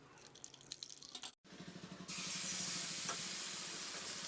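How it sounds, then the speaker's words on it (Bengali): Palm malpoa pitha batter fries in hot oil with a soft bubbling sizzle, then swells into a loud, steady hiss after a brief cut. "আরও একটি পিঠে উল্টে পাল্টে ভেজে নিচ্ছি।"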